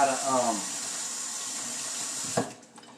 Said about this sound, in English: first thing I'm going to do is I'm going to rinse off my peppers